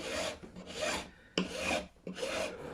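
A file rasping back and forth across the nut of a vintage Japanese Commodore guitar during a refret, four or five short close scraping strokes in an even rhythm.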